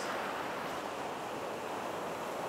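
Surf crashes and churns over rocky shoreline at Amakusa, Kumamoto, a dense, even rush of water and wind that holds steady throughout, with no speech.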